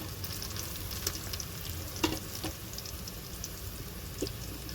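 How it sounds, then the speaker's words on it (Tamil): Onions fry in oil for biryani with a dense, even crackling sizzle and occasional stirring scrapes, close and steady, with no talking. "வெங்காயம் நல்லா வதங்கிடுச்சு பாருங்கள் ஃப்ரெண்ட்ஸ்"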